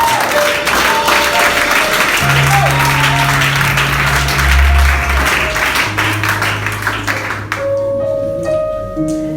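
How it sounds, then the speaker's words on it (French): A church congregation claps and cheers in sustained applause over held keyboard or organ tones, a full, steady crowd sound that thins toward the end as a few notes ring out. "Acclame d'abord le roi."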